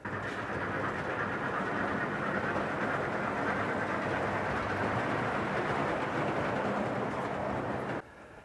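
Model railway trains run on a large exhibition layout built for scale-length trains, giving a steady, continuous rolling rumble and rail noise that carries on unbroken for about eight seconds before dropping off near the end.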